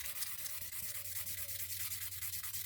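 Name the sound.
sanding stone on silicon carbide sandpaper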